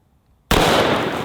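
A single loud, sharp handgun shot firing a 240 grain hollow point round into a 12-pack of Squirt soda cans, an abrupt blast with a brief ringing decay after a moment of silence.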